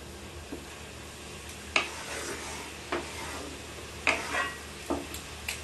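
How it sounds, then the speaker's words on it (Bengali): Radish greens curry, cooked Bengali style, being stirred in a pan: a few separate scrapes and knocks of a spoon against the pan over a soft background hiss. "আর একবার একটু নাড়াচাড়া দেবো"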